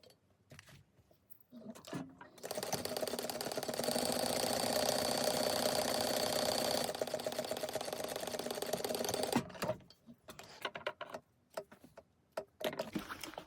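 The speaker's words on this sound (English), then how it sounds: "now we're going to sew that at 1/4 inch" A sewing machine stitches a fabric seam at a quarter inch for a mug rug coaster, its fast steady whirring hum running for about seven seconds close by. Short clicks and handling sounds come before and after.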